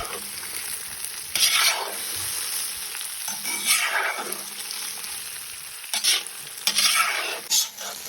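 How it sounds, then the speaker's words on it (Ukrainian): Meat and ribs fry in a cast-iron kazan over an outdoor street stove, a continuous close sizzle punctuated by several louder bursts of stirring and scraping as the pieces are turned. "І додаємо туди вже м'ясо, реберця, що вам хочеться, і обжарюємо."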